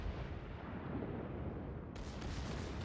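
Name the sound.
torpedoes launched from Scharnhorst battleship in World of Warships video game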